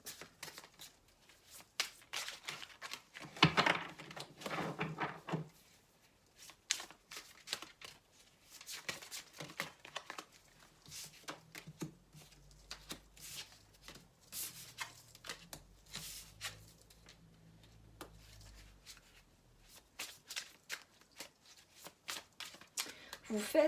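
Tarot cards are shuffled by hand in repeated soft riffling and sliding bursts, close and quiet, with someone talking in French between and over the shuffles.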